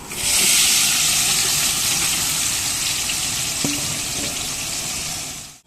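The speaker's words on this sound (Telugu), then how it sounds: "బోన్స్ బాగా ఉడికించుకున్న తర్వాత ఆయిల్ వేసుకుని ఆయిల్ ఆనియన్ ఫ్రై చేసుకోవాలి" Onions frying in hot oil over boiled mutton bones while cooking goat-leg paya curry, a steady close sizzle that hisses evenly throughout with one brief clink partway in.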